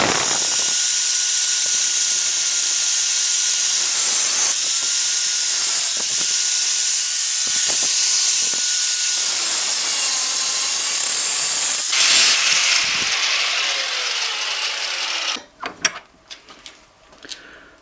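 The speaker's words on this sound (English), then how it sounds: "Next step's going to be to take the grinder and cut off all this excess metal." An angle grinder fitted with a small cut-off wheel slices through excess metal while making DIY brackets for driving lights, producing a loud, sustained hissing screech in several bursts with brief pauses, then falling into scattered clanks and rattles.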